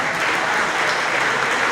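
An audience at an awards gala for a running circuit applauds, a brief, steady wash of clapping filling the room.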